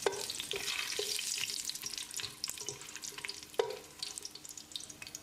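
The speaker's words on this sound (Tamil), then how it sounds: "ஒரு 10 செகண்ட் இதை பிரட்டி விட்டுடலாம்." Cinnamon, cloves, cardamom, star anise and bay leaves sizzle in hot oil while being stirred, with steady frying crackle and occasional scraping clicks of a spoon, close and moderately loud.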